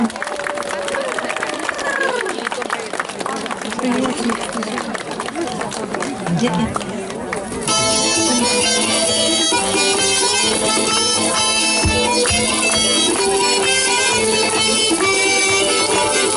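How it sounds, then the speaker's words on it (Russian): Crowd applause at a rural arts festival as mowing teams are welcomed to a scythe-mowing contest: an outdoor audience claps steadily through the clip while an announcer speaks loudly over a PA, with music joining partway through. "А сейчас бурными аплодисментами будем встречать команды косарей."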